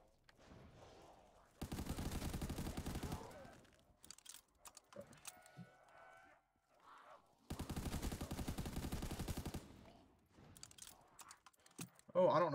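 Two long, loud bursts of sustained automatic gunfire in Black Ops 3 Custom Zombies, separated by quieter gaps with scattered in-game sounds and a player's voice.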